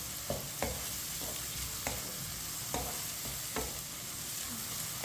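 Onions browning on medium heat in a pan, a steady soft sizzle broken by regular scraping taps of a spoon as they are stirred, fairly quiet and close, with no voices.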